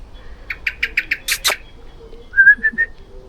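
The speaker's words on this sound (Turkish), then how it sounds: "Bu neyin kuşu acaba?" A bird gives a quick series of bright chirps, a couple of harsher notes, then a short trio of clear whistled calls, close and alone.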